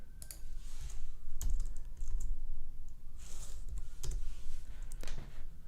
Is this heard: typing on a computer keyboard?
yes